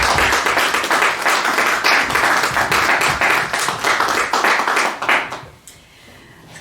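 An audience at a book talk claps together in a dense, even burst of applause that lasts several seconds, then tapers off quickly into near quiet.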